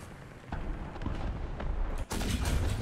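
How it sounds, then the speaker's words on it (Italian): A tank cannon fires in the video game War Thunder, a loud booming blast followed by rumbling battle noise, with dense gunfire-like bursts running through the short stretch. "Il cannone si è sentito, eh."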